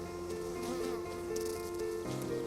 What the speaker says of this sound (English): You're covered in bees.